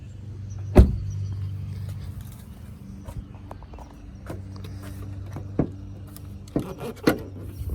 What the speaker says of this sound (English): We'll pop the hood real quick,